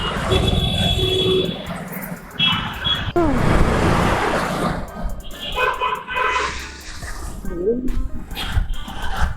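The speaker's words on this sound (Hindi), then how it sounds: "भयानक भीड़ है माराथाली।" Heavy road traffic crawls through Marathahalli in Bangalore, a busy mix of engine rumble, passing vehicles and tonal horn blasts rising and falling close by, with voices talking over the din.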